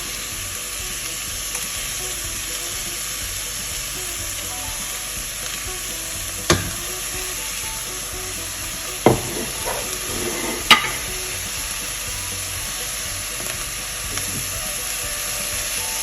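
Garlic and green chilies fry in a pan with a constant loud hiss of sizzling oil, broken by a few sharp clicks and taps of a utensil against the pan; near and steady throughout, nobody speaking.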